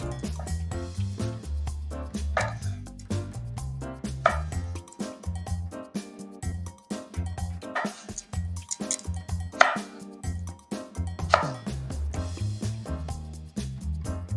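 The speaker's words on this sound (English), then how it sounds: "Make sure you chop them in as little cubes as you can" Knife chopping peeled apples into small cubes on a cutting board, a long run of crisp, uneven taps in quick bursts with short pauses, close and clear, with music playing underneath.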